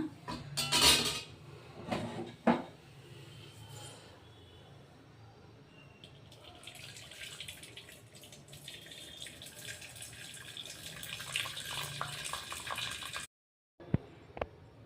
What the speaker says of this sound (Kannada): ಈ ನೀರು ಸಪ್ರೇಟ್ ಮಾಡ್ಕೊಳ್ಳೋಣ